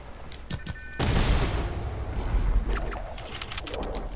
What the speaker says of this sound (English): you can hear me shooting snipe with the heavy AR